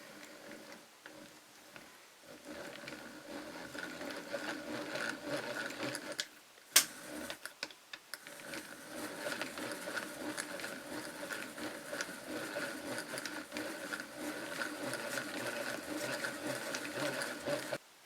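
A hand-cranked yarn winder turns slowly to wind a yarn cake, giving a steady, quiet whirring and ticking of gears with a faint rattle, broken by a brief knock partway through.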